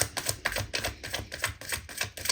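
Cards are shuffled with rapid, rhythmic riffling clicks, repeating in quick bursts close to the listener.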